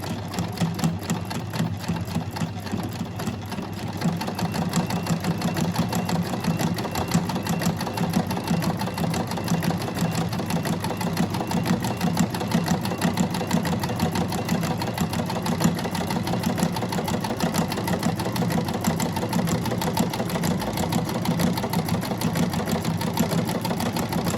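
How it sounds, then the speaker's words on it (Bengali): A Singer SM024 sewing machine stitches steadily and nonstop, a close, even mechanical whir with rapid needle ticking that holds the same level throughout. "এখন আমি সেলাইটা করতেছি, করে দেখাচ্ছি যে সেলাইটা কেমন হয়।"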